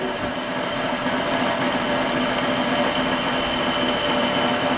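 A drill turning a small bit and producing swarf, giving a continuous whirring mechanical drone at an even level with no speech.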